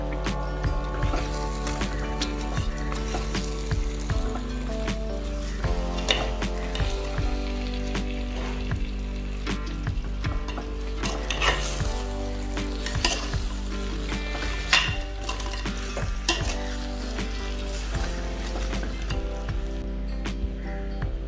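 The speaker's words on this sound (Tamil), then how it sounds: "இப்போ எல்லாத்தையும் சேர்த்து ஒன்றா கலக்க போகிறேன்" Devilled chicken with tomato sauce is stirred in a hot pan, a steady close sizzle of frying with spoon scrapes and wet squishes running throughout, with no talk.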